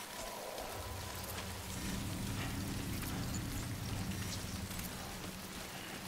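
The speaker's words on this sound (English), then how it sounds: "Glad to get out of this rain if possible, though." Steady, continuous rainfall in the video game Death Stranding patters on a surface with a low rumbling undertone, no voices present.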